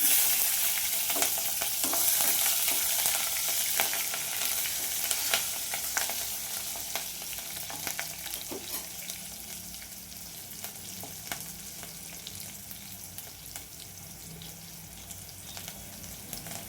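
Curry leaves and chopped green chillies frying in oil for a lentil palya, a steady close sizzle with scattered spatula scrapes that slowly eases in loudness, no voices.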